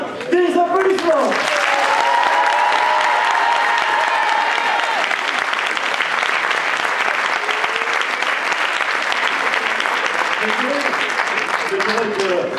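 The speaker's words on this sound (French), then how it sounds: "Alors pour Pascal, des applaudissements." Sustained audience applause for Pascal at a champions' trophy ceremony in Lure, dense even clapping that holds steady for the whole stretch, with a voice speaking briefly at the start and faint talk near the end.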